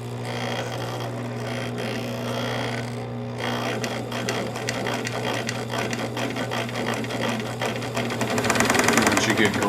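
A Bernina Record 830 sewing machine runs with a steady motor hum and rapid needle clatter, getting louder and busier toward the end, with slight noise from the foot pedal when it is barely pressed.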